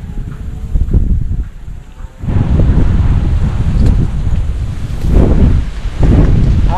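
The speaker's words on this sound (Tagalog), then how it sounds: "Malakas yung hangin" Strong wind blowing at the shore while fishing, a loud continuous low roar that gusts harder after the first couple of seconds and keeps surging, with no talking.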